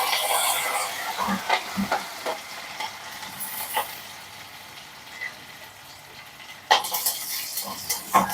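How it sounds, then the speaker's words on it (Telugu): Tempering sizzles in hot oil for a chutney, a steady frying crackle with intermittent clatters and stirring knocks from the pan, close and moderately loud. "ఇక్కడ పచ్చడి తాలింపు వేసేద్దాము."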